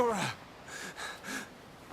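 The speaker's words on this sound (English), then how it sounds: "She's still breathing." Fiora from Xenoblade Chronicles drawing short, strained breaths: a sharp gasp followed by two softer, shaky breaths, close and fairly quiet.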